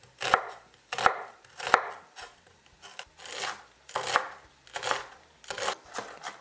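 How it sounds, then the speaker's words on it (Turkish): Knife finely chopping a medium onion on a board, a series of close, crisp cuts in an uneven rhythm, moderately loud with short gaps between strokes. "Bunun için bir tane orta boy soğan kullanıyorum. Soğanı incecik, küçük küçük"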